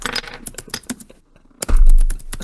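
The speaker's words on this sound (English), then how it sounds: "I'm hearing furious typing" Rapid, furious typing on a computer keyboard, a dense run of clicking keystrokes that breaks off for a short pause and then resumes over a heavy low thump.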